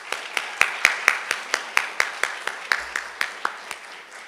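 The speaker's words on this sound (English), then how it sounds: "give another round of applause for Mr." At an accessibility achievement ceremony, clapping for a speaker comes as a steady, evenly spaced run of crisp claps, about four per second. It sounds like a small group or one close clapper over a light background wash, with no talking.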